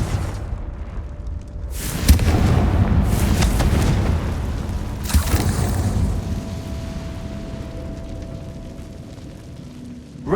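A Confringo blasting curse detonates in Hogwarts Legacy, a heavy booming explosion with a second blast a few seconds later, each trailing off into a long rumbling decay.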